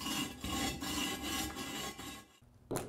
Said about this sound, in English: grab our abrasive stone or wire brush if you don't have one of these, and remove any loose material on the block